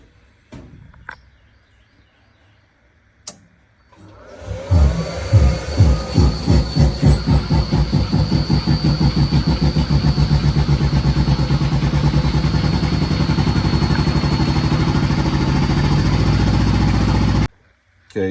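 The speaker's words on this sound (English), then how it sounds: "as soon as we turn the breaker on, the compressor started up" A Quincy 350 three-phase air compressor, run on single-phase power through a VFD, kicks on with a loud, steady pumping rumble and rapid rhythmic pulses that continue evenly and then cut off abruptly.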